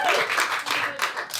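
Brief burst of applause from a comedy club audience, a dense wash of clapping hands that swells and fades.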